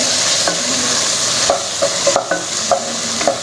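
Mushroom pulao ingredients sauté in a pan, a continuous loud sizzle broken by several sharp spatula scrapes and taps against the metal in the second half, with no talking.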